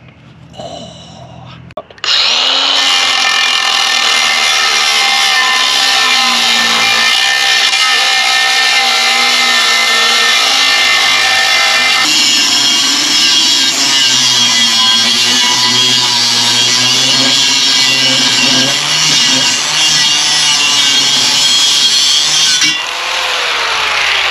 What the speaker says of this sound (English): cut a straight pipe about 20 inches long